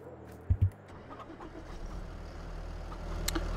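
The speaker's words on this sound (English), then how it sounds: "let's grab this tractor" A farm tractor engine cranks with two heavy low thumps, then settles into a steady idling rumble at moderate distance, with faint rustling and a brief bird call in the background.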